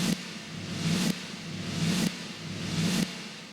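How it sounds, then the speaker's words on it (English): A reversed reverb snare drum sample in an 80s Def Leppard-style mix, heard alone as three repeated swells that rise in a hissing wash and cut off abruptly, roughly once per second. "on its own, the reverse kind of sounds like this."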